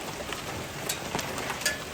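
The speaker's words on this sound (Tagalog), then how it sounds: "Lumalakas na naman yung hail." Hail falls during a storm in Cochrane, a dense steady hiss of pellets striking surfaces with a few sharper ticks standing out, continuous and fairly loud, with no voices.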